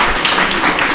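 Dense, loud applause from an audience at a spiritual talk, a continuous wash of many hands clapping together at once, steady and close for the whole moment.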